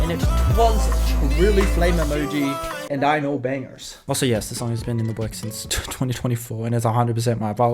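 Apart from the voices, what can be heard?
None of the usual background noises is heard.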